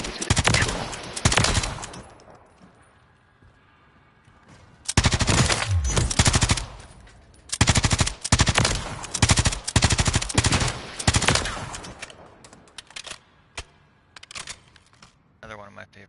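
An MK9 rifle in Call of Duty MW3 ranked play fires in fast, loud automatic bursts, with a short opening burst, a quiet gap, then repeated bursts of several seconds each, while a voice talks over the action.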